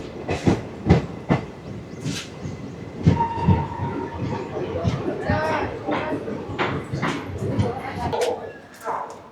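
Salasar Express passenger train moving after leaving Degana Junction, with steady rumbling and rhythmic clatter of wheels on rail joints, while people talk nearby.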